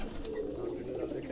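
A pigeon coos low and soft from a rooftop, a brief murmuring call half buried under background noise and nearby voices.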